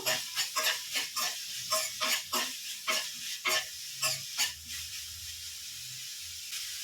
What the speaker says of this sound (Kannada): ಒಂದೂವರೆ ಇಂಚು ಶುಂಠಿ ಕಟ್ ಮಾಡಿ ಹಾಕ್ಕೊಂಡಿದ್ದೀನಿ ಹಾಕಿ ಚೆನ್ನಾಗಿ ಫ್ರೈ ಮಾಡ್ಕೊತಾ ಇದ್ದೀನಿ